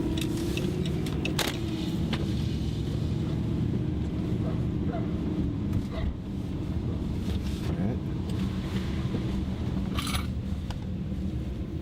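Chrysler 300 sedan driving and braking at around 50 km/h, a steady low road and engine rumble inside the cabin with faint jingling of loose coins, no brake squeal standing out.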